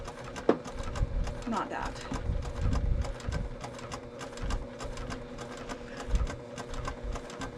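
Sewing machine back stitching a quilt, a rapid, fairly quiet mechanical ticking in short runs and pauses, with a brief spoken remark near the start.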